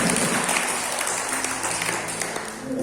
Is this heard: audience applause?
yes